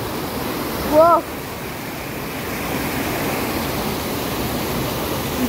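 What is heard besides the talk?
strong current of water rushing at Bamni lake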